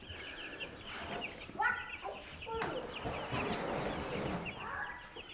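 Meat chickens being moved out to pasture cluck and chatter in a close, busy flock, with overlapping short calls continuing throughout.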